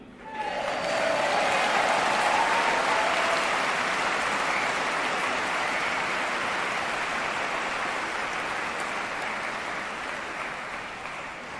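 A large audience at a Save Soil event in Dubai breaks into dense, sustained applause that swells in quickly, stays full and close, and tapers slightly toward the end.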